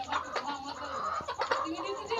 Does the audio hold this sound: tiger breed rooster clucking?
yes